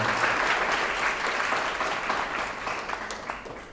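Steady applause from a crowd at a university guest lecture, dense clapping throughout that gradually eases slightly toward the end.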